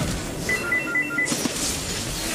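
A telephone rings in a short series of electronic trills over steady background noise during a League of Legends ranked match, fairly clear but not loud.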